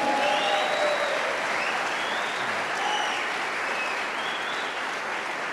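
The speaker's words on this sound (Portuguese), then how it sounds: "Can you give God a clap offering?" A church congregation claps together in a sustained round of applause, dense and fairly loud, holding steady and easing slightly toward the end, with faint voices mixed in.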